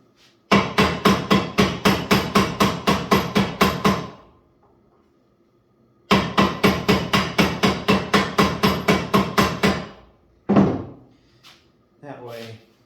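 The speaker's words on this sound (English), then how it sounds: "I'll take the ball peen and hammer them out" A ball peen hammer peens knife rivets in two fast rhythmic bursts of close, ringing metallic strikes, each run about a dozen blows, separated by a pause and followed by a few scattered knocks.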